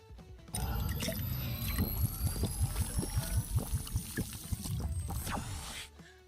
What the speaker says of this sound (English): Now we're ready to add fluids.